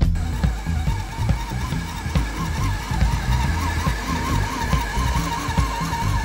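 Remote-control car revving and skidding during a crash stunt shoot, a busy buzzing motor with warbling pitch and scraping tire noise, close and continuous.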